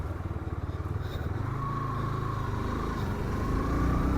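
Hero Xtreme 160R 4V motorcycle engine while riding on the road, a steady, close, throaty drone that holds an even pitch and rises slightly as the bike picks up speed.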